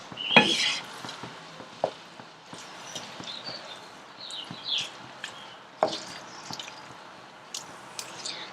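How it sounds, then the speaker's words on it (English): Soya chunks and spinach pulao being stirred in a cooking pot, with soft squishy scrapes and occasional clinks of a spoon against metal, fairly quiet and irregular. "we just add little by little and keep mixing it so that the entire ingredients mix together"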